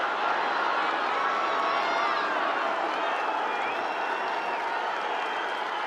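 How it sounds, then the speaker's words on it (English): Stadium crowd at a Maryland vs Syracuse NCAA men's lacrosse game, a steady, dense roar of cheering and applause that swells slightly and holds throughout, with whoops rising from the mass. "Crowd amps it up just a little bit, just a notch higher"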